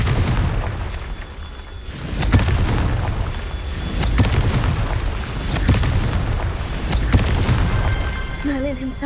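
A Confringo fire spell bursts in Hogwarts Legacy, several booming blasts and crackling impacts thudding out over a rumbling game soundscape, loud and close.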